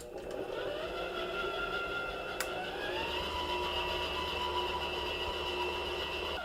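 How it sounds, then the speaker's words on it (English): Electric stand mixer running on low speed while making New York style cheesecake batter, a steady mechanical whir with a single sharp click partway through, continuous and moderately close. "Lower the mixer and continue."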